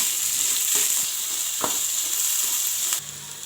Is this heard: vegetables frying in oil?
yes